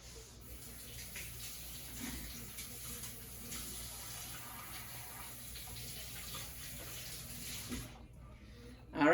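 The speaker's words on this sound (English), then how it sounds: "I gotta wash my hand." A kitchen tap runs steadily while hands are washed under it during pasta gravy preparation, a soft continuous splashing hiss that stops abruptly near the end.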